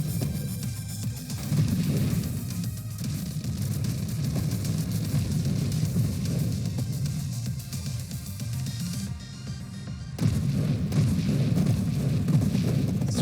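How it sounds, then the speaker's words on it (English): Explosions in the space shooter video game Nova Drift, a dense, continuous barrage of loud booming blasts layered together with a brief dip near the ninth second before resuming. "Too many explosions."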